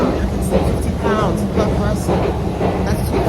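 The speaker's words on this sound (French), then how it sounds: "On est dans le métro." London Underground Central Line metro train running, a loud rumbling rattle with rail clatter and a brief rising whine, while people talk over the noise throughout.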